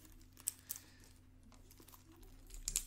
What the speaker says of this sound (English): Gentle rustling plastic.